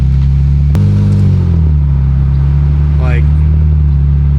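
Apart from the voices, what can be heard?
Infiniti Q60 with aftermarket exhaust driving at low speed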